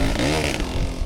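A dirt bike engine held at full throttle on a steep, rocky hill climb, a loud, close, continuous high-revving roar with rough mechanical clatter and no pauses.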